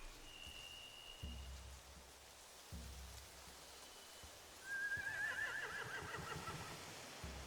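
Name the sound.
horses neighing in The Walking Dead Telltale video game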